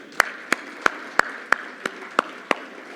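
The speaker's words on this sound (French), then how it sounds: "Et je vous demande tous aujourd'hui, à ce moment, de bien vouloir l'applaudir" Applause at an awards gala, heard as eight sharp, evenly spaced claps about a third of a second apart, close and crisp over a low steady room hum.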